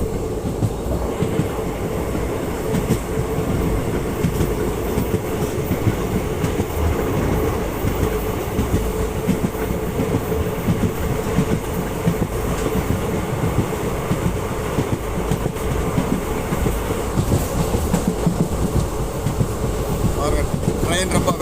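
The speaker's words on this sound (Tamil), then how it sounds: "ட்ரெயின் ரொம்ப வேகமாக போயிட்டுருக்கு." A passenger train runs fast between Tiruvannamalai and Vellore in the morning, heard from aboard as a loud, continuous rolling roar with rhythmic wheel clatter and rattling carriages throughout.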